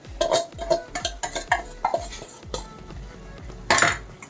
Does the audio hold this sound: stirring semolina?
yes